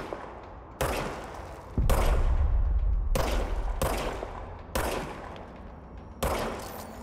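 Several heavy gunshot bursts from the service weapon in the video game Control, each a sharp crack with a long rumbling decay, spaced roughly a second apart, loud and close with no talk.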